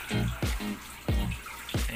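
Water from an aquarium trickle filter drips and splashes in quick, repeated bursts, close and clear with a watery gurgle between drops.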